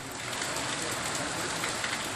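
Unseasonal rain falls over villages in Surendranagar district, a dense, even wash of faint hiss that holds steady throughout.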